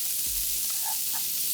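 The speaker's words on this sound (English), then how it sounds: "seal it on both sides on high heat, turn the heat down after I've turned it." Korean-style short ribs sear in a pan on high heat, giving a soft, steady sizzling hiss with a couple of faint clinks.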